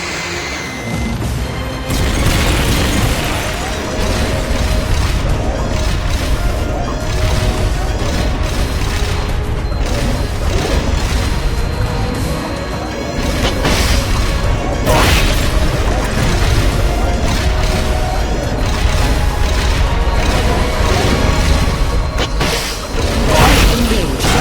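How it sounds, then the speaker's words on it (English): Rocket launcher fire and heavy explosions in a Metal Gear video game make a loud, dense barrage of booms and crashes that runs throughout with little pause. "Firing rocket launcher."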